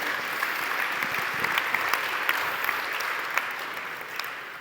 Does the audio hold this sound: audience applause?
yes